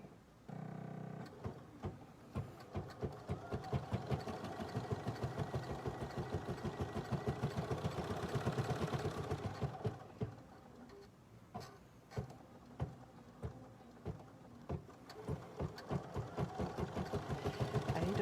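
Bernina 570 embroidery machine stitching a T-shirt, a quiet mechanical whir with rapid regular needle ticks, pausing briefly midway before resuming with more separated stitching clicks.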